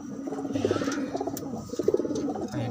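Pigeons coming in to a nest with a cracking egg, cooing in low repeated throaty bursts close by, with soft shuffling and patter between the calls.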